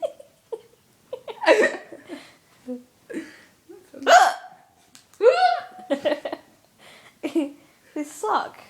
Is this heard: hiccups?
yes